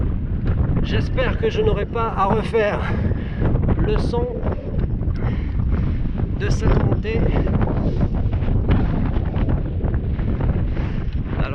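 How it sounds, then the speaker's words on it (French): Heavy wind buffets the microphone with a constant low rumble while someone talks in French throughout, riding a bicycle at about 30 km/h. "Je ne sais pas si vous m'entendez bien avec le vent."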